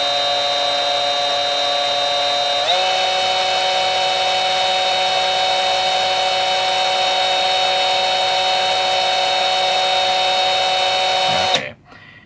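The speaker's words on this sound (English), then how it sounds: "So you need to drill this out, I think, to actually use it." Power drill with a 3mm bit boring into a plastic Bandai SD Gundam model kit part, a steady high whine that shifts in pitch briefly, runs alone for about eleven seconds, then stops abruptly.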